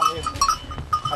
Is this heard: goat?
yes